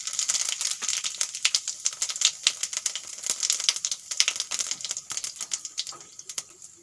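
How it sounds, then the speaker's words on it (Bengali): Cumin seeds hit hot oil for tempering a fish curry, giving a dense, crackling sizzle with rapid irregular pops that stays fairly close and soft throughout, with no talk. "তেল গরম হয়ে গেছে, ফোড়নে দিয়ে দেব জিরে।"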